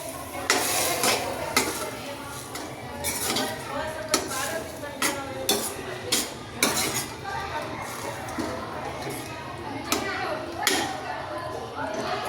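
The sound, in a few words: mixing val beans into gravy in a cooking pot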